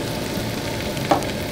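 Salmon fillet searing in a pan over medium-low heat gives a steady, even sizzle throughout, with one brief louder crackle near the end; no voices.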